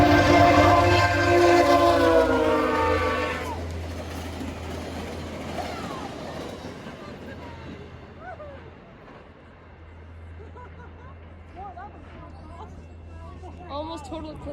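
VIA Rail passenger train 67 passes in Brockville during a near-total solar eclipse, its horn blaring loudly at first, then the rolling rumble of cars fading, with people talking nearby.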